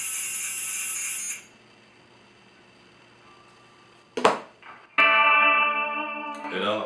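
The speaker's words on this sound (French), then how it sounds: "on a affaire à une reverb beaucoup plus modulée" Electric guitar tones swim through a lush, wavering reverb from a TC Electronic pedal. Notes bloom and ring out, leave a quiet gap, then return with a sharp strike and shimmering sustain.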